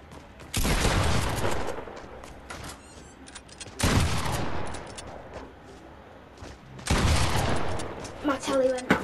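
Gunfire in the Fortnite video game, three long bursts of rapid automatic shots spaced a few seconds apart, loud and sharp, with lighter scattered shots at the end.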